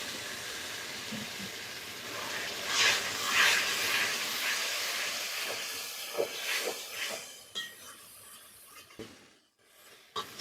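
Water is poured into marinated, spiced country chicken in a hot pan and sets off a loud steamy hiss that swells, crackles and then fades away to near silence at the end.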